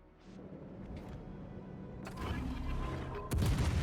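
Warship turret guns firing in World of Warships Legends, with heavy booming blasts over a low rumbling background that grow louder toward the end, where a sharp, strong salvo hits near the close.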